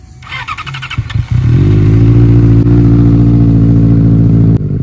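A Benelli 600cc motorcycle with a fully modified exhaust starts with sharp cracks and pops, then settles into a loud, deep, steady idle close by.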